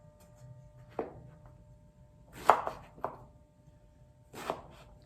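A knife chops vegetables on a board while a Mediterranean shakshuka is prepared: about five sharp, separate thuds spaced irregularly, fairly quiet, with no talk over them.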